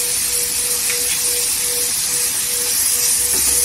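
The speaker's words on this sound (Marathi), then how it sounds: "मसाला तेलावर परतून घ्यायचं।" Turmeric, cumin and coriander powder masala, with the cumin roasted and ground, sizzling in hot oil for a spicy green chilli sukat; a steady, close, even hiss with no talking.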